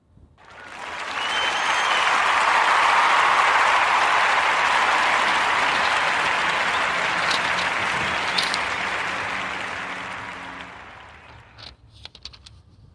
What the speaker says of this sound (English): join me in giving our sister Sierra Taylor a warm Narrative Podcast round of applause